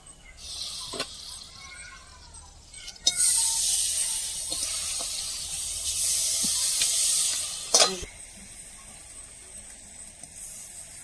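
Sugarcane jaggery dropped into a hot wok, with a loud, bright sizzle and hiss that bursts in abruptly and holds for several seconds before dying back, followed by a few scattered clacks.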